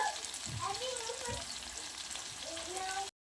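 Meat and taro fry in hot oil with a steady, dense sizzle and crackle throughout, plus a couple of stirring scrapes, nearby and without any talking.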